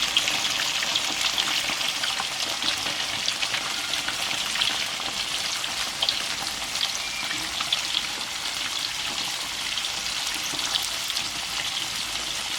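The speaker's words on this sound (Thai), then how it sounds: "เวลาที่เราทอดเนี่ยเราไม่ต้องคนนะคะ เพื่อน ๆรอให้เขากรอบก่อนนะคะ" Fillets of tilapia frying in hot oil in a home kitchen, a steady, close crackling sizzle with dense popping bubbles throughout, loud and continuous with no talk.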